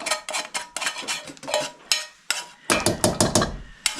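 Scraping of dehydrated, fluffy mashed-potato-like backpacking food into a big cooking pot, heard as a rapid series of loud, close metallic scrapes and clanks with no talking.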